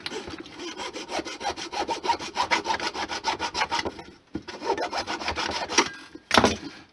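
A handsaw cuts small wood pieces in an old miter box for HO-scale model building, making rapid rhythmic rasping strokes up close. The sawing pauses briefly partway through and then ends with a final short burst.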